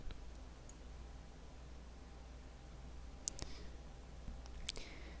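Sharp computer mouse clicks, a few isolated ones, faint against steady low background hiss while a marketing account is set up on a computer.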